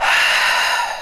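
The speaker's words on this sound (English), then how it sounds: "almost making a throaty noise in the back of your throat" A single forceful breath pushed out with the lower abdominal muscles, a close, steady, airy exhale with a rough throaty edge that lasts about a second and fades at the end.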